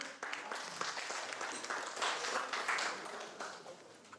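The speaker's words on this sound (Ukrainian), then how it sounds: "Будь ласка, ваші оплески." Audience applause at an office opening for a security firm in Ivano-Frankivsk, a soft, steady patter of many hands clapping at moderate distance, with faint voices mixed in.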